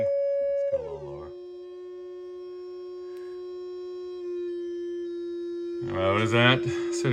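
Steady hum-like sine test tone near 300 hertz from an old signal generator through a 1965 Twin Reverb amp, held continuously at moderate level while someone talks briefly at the start and end.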